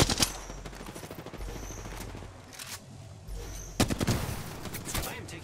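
Rapid bursts of gunfire in Apex Legends hit the player, with sharp automatic rattles and single cracks over steady game background, some loud and close, others fainter, while a voice talks at times.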